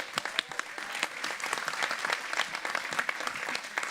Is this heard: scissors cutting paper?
no